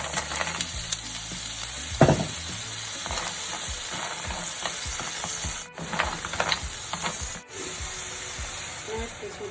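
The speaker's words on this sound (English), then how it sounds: "I'm just adding plenty of oil now, and then I'm going to throw in the shallots and some garlic" Shallots, garlic and mussels fry in plenty of oil for a seafood linguine, making a steady sizzle throughout with stirring scrapes and knocks on top, and a couple of brief drops in level.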